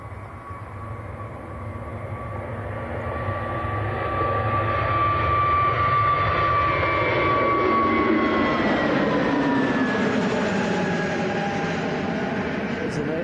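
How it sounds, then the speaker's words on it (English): An EasyJet Airbus A320neo jet passes close by at Manchester Airport, a steady broad roar that swells after a few seconds and holds loud, with a high engine whine sliding through it. No voices are heard. "EasyJet A320 Neo just went zooming past us."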